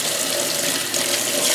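Water gushes from a sink tap in a steady, close rush while contact-paper stencils for glass etching are rinsed under it.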